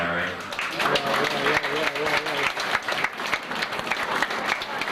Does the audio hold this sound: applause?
yes